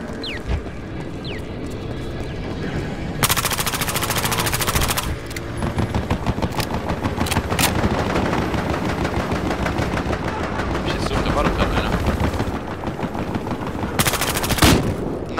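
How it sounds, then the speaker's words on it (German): Rapid automatic gunfire in Battlefield Hardline rattles almost without pause as a full magazine is emptied, with loud, dense bursts and sharper cracks standing out near the start and end. "ich schieße ein ganzes Magazin auf ihn und der fällt nicht um"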